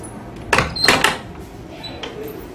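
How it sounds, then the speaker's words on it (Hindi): A door is opened at home, giving a few close, sharp clicks and a rattle of handle and latch, followed by quiet room noise. "दरवाज़ा खोल देती हूँ मैं"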